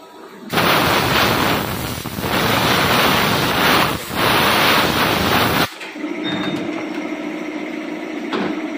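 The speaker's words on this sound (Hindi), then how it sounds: "अब देखो फेस ग्रुप का टूल हमारा ये हमारा फेस पे जा रहा है ग्रुप करने के लिए" A CNC lathe runs a face grooving cycle with a radius insert: a loud rushing wash of noise for several seconds stops abruptly, leaving a quieter, steady whirring machine hum with faint ticks.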